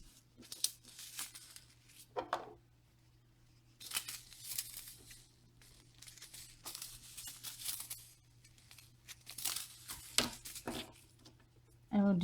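Washi tape torn off and pressed down as a decorative border on a craft shaker, a few short rips and crinkly tearing bursts scattered among soft handling noise, fairly quiet and close.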